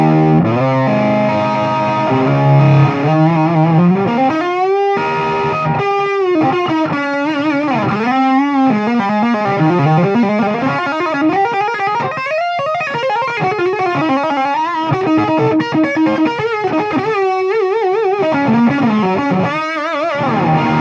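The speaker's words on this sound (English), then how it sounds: "a Boss DS1 pedal in between the guitar and amp, just so you can hear the amp with a bit of distortion on it." An electric guitar played through an 1980s Boss DS1 distortion pedal into a Highway 83 amp, sustained distorted notes and melodic bends ringing steadily and loud with no talk.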